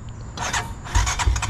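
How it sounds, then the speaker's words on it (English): Honda TRX250X ATV engine starting cold, with a starter whir followed by the engine catching into rough, pulsing low rumbles over about a second and a half, close and fairly loud. "So pull in the clutch, you know, to hit your starting button."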